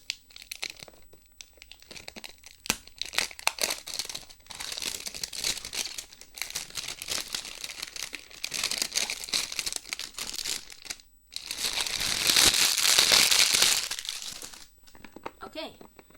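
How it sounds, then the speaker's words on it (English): Plastic wrap comes off a Qiyi MS 4x4 puzzle cube box with close, continuous crinkling and tearing that swells louder near the end, while a voice talks at times. "And so I have to remove the plastic here first."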